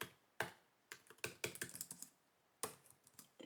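Typing on a Maingear Vector Pro 2 thin 17-inch gaming laptop keyboard with shallow keys, producing quiet close clicky taps in irregular bursts, some quick runs and a few single presses.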